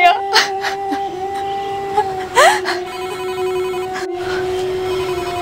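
A telephone rings repeatedly with a steady electronic tone, fairly close, while a person speaks briefly over it.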